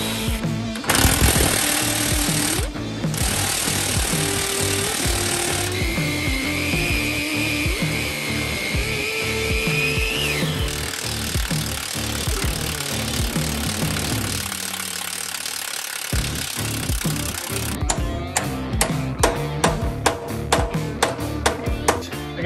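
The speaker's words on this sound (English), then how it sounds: "so I just chop this off and then we're gonna come right through that bolt." A power tool chops through a stuck leaf spring bolt on an overland trailer during a spring upgrade, with a loud continuous metallic grinding and hammering that stops briefly near the middle, then resumes as rapid pounding bursts.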